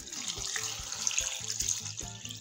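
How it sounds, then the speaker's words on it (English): Tap water runs steadily into a pot over guava, a continuous splashing stream close by with no talking. "I'm just gonna go ahead and cover with water."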